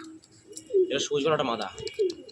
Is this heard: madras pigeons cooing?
yes